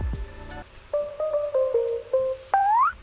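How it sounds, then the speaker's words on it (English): A kawaii-style synth lead automated to pitch upward as a pre-drop, playing a run of short bright tonal notes that step along before a final sustained note bends and sweeps higher, loud and alone. "the pre-drop kind of sound here is from that kawaii synth automated to pitch up"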